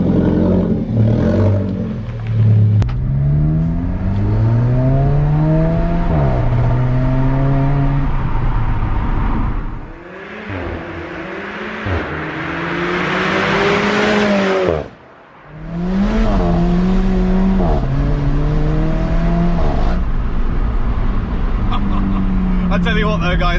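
An Alfa Romeo 4C drives and accelerates hard, its engine note rising in pitch through several gear pulls with brief dips between shifts, loud and close, with an intake or turbo whoosh swelling at the peak.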